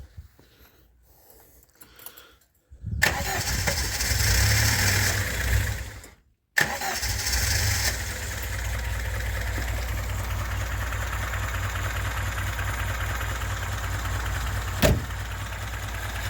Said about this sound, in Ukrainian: прогрівається автівка робить непогано